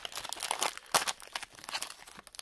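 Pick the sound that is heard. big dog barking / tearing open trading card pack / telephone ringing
tearing open trading card pack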